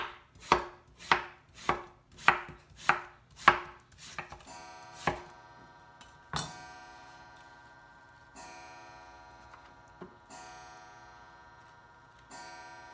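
A knife slices through a whole watermelon on a cutting board, with about eight crisp, evenly spaced chops up close, followed by slower, sparser cuts through the rind that ring out briefly.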